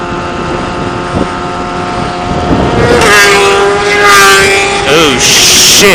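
Tuned motorcycles, including a Widowmaker ZX10 and an S1000, race loud and close with high-revving engines. Pitch rises through gear changes, under heavy wind buffeting on the microphone.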